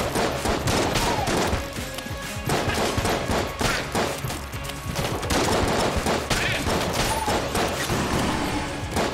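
Dense, nonstop volleys of pixel-art gunfire from ghosts with guns in the video game Enter the Gungeon, a loud chaotic barrage of overlapping shots with no pauses.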